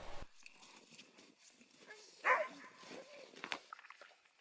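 Sled dogs of a mushing team bark and whine in the early morning cold, scattered yelps and barks at mixed distances, mostly faint, with one louder nearby bark and some movement noise.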